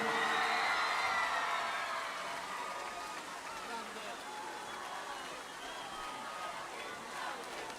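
An audience at a Casoria music event cheers and screams for a singer, a bright, dense crowd roar that is loudest at first then settles into sustained shrieks and applause.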